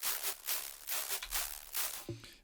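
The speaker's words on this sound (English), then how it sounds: "So here's a noise layer." A wide parallel noise layer with eroded top end swells and fades in rhythmic bursts of bright hiss within a music production, fairly quiet with no voices.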